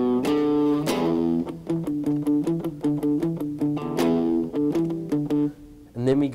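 Electric guitar picking the Magnum P.I. TV theme riff, a rapid run of clear plucked notes with sustained, slightly distorted tone, ringing loud and close with brief gaps between phrases.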